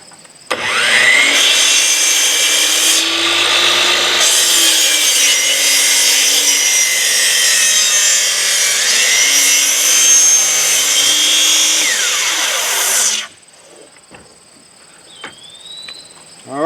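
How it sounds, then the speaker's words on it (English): A Sawzall reciprocating saw cuts through a wooden post at an off-grid cabin build, buzzing harshly and continuously for about twelve seconds before stopping abruptly. Quiet outdoor background follows. "alright, that was the final cut. Use the Sawzall one more time."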